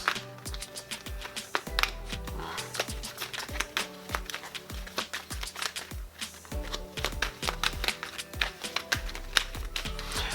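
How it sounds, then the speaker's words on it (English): Tarot cards are shuffled in a steady stream of quick, crisp taps and riffles, with soft tonal music playing underneath. "I've been starting, shuffling the cards on camera"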